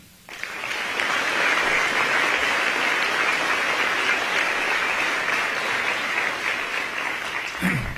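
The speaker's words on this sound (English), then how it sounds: "So please give a round of applause to John, to Satya, to Paul, and to Sundar." Sustained applause from a large audience fills a hall at an event with tech CEOs, beginning abruptly and holding steady and dense for several seconds.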